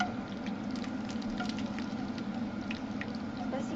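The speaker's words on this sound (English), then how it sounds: "Basically you're frying the sage off till it's crispy." Continuous crackling sizzle of sage leaves frying in butter on a very low stove, steady and close, with soft pops and spits throughout.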